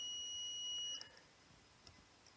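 A smart bin monitoring system sounds a high electronic alarm tone, a steady piercing beep that cuts off after about a second, leaving faint background hiss and a couple of soft clicks.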